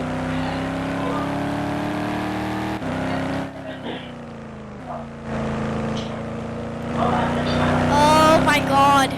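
A car driving in the Roblox game ERLC gives a steady, droning engine tone that climbs in pitch toward the end as it speeds up, running under excited talk from players.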